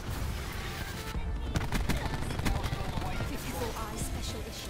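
Gunfire in the Black Ops 4 video game on a Hardpoint match, rapid repeated shots and bursts over a dense, constant game din, with brief crackling impacts throughout.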